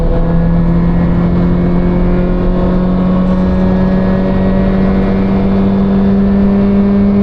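A car engine hums loudly and steadily at high revs, a constant droning whine with road noise, no talking.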